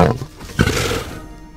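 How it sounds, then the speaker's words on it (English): A lion's roar, read aloud as part of a children's picture book session, comes as a loud, rough burst at the start and then a second, stronger rising roar that trails off. "So the lion makes a roaring sound."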